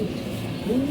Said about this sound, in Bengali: কবুতরগুলো অনেক সুন্দর হয়েছে